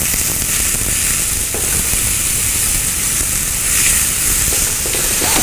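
Onion frying in a very hot pan, a loud, continuous crackling sizzle with occasional stirring, close and steady with no talking.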